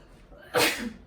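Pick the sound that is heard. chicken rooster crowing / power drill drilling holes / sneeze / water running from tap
sneeze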